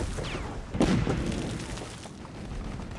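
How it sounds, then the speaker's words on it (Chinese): Heavy artillery battalion guns firing shells in a war film battle scene against Japanese forces, a deep booming blast near the start followed by rumbling, sustained battlefield noise and another burst at the end. "命令重炮营给我狠狠的打"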